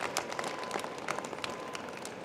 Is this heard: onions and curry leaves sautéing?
no